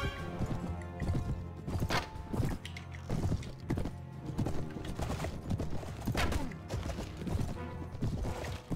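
Horse hooves gallop in Mount & Blade: Warband, a steady rapid clip-clop of clattering hoofbeats running throughout, loud and close, with battle noise and thuds mixed in and no talk.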